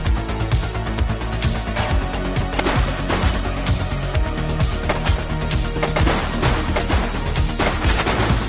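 Dense, loud, continuous gunfire in the police game The Precinct, with rapid overlapping shots and bursts rattling without pause over a low rumbling backdrop.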